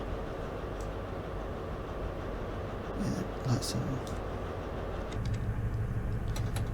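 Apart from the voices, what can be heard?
Pacer train passing in Train Sim Classic video game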